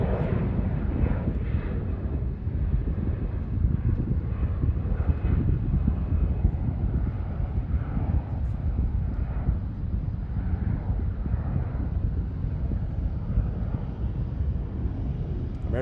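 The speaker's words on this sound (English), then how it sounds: "American 749 arriving here after an 8-hour and 19-minute flight from Madrid. A 24-year-old 777. 200." A 24-year-old American Airlines Boeing 777-200, arriving from Madrid at Charlotte Douglas, produces a deep, continuous engine rumble with gusty roar, steady and moderately loud.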